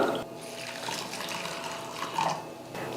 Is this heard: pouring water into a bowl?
yes